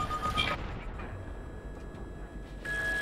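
A BMP armored vehicle blown up in Battlefield 3, a single heavy explosion boom with rumbling debris that decays into a low, sustained roar before a second burst of noise rises at the end.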